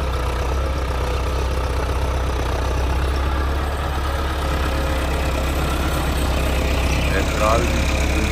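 A Massey Ferguson 385 tractor engine idles steadily with a low, continuous rumble throughout, loud and close, while a person talks over it.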